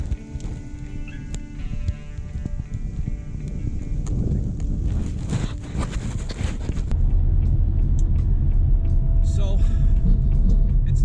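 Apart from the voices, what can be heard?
car driving on road, towing a 1991 Volkswagen Cabriolet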